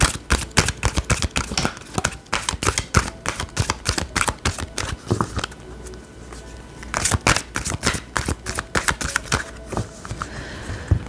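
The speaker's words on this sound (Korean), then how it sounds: "자, 그러면 유니콘 카드 뽑아서 좀 더 마무리를 할게요." A deck of unicorn tarot cards is shuffled close up, giving rapid crisp riffling flicks in quick bursts with short pauses between, and no talking over it.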